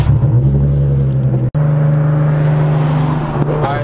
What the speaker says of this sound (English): Put the gas, bro. You gotta give gas.